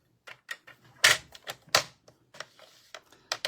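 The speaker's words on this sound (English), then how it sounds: "So just run your blade up there." Craft blade slicing through card stock along a scored line while making a diamond fold card, heard as a series of sharp, close scratchy cuts and taps at irregular intervals.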